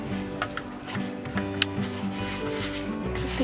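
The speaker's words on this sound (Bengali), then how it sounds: "বারে বারে মেখে মেখে দেখে নিতে হয় আর জল লাগবে কিনা" Hands knead stiff maida dough for kochuri, a soft, continuous rubbing and squishing with faint slaps, close by and steady, with no talk over it.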